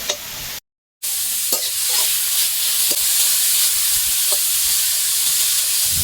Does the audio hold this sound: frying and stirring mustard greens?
yes